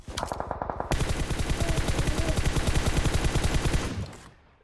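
Rapid, loud gunfire from the mobile battle royale game PUBG Mobile, a dense sustained burst of shots after a few quicker opening pops, then fading out near the end.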